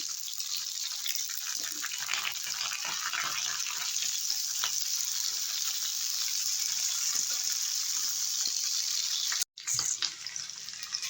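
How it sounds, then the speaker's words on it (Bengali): Green peas fry in mustard oil in a wok with a continuous bright sizzle and light stirring scrapes, steady throughout apart from a brief cut near the end. "দেবো কড়াইশুটি"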